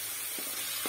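Spice paste frying in a kadhai for desi-style spaghetti while a spoon keeps it moving: a brief, even hiss of sizzling with a couple of soft spoon bumps.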